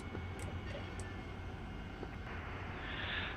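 Harrier jet rolling down runway 09 for takeoff in a flight simulation game, a steady broad engine roar that swells slightly toward the end, with faint radio chatter tones above.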